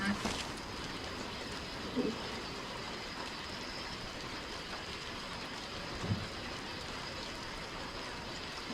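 Steady rain in the survival game DayZ, a constant hiss of falling water with a couple of faint thuds, quiet and continuous with no talk over it.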